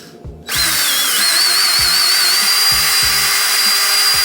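A power drill whirs into action after a short quiet start, running steadily and loudly with a whining pitch that shifts slightly as it bites.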